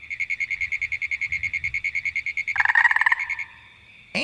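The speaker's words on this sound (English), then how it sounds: "I love going outside at night and hearing the frogs." At night, a frog croaks in a fast, steady pulsing rhythm, close and loud, joined briefly by a second, deeper croaking call before fading.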